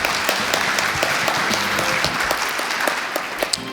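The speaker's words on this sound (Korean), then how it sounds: "큰 박수로 맞이해 주십시오" An audience at a 2018 keynote session applauds two speakers being welcomed onto the stage, dense sustained clapping from a large crowd with a few sharper nearby claps and faint background music.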